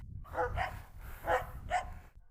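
A Cane Corso dog in a pack lets out three or four short, close barks, spaced unevenly over a couple of seconds, with a faint whimpery edge over low background rumble.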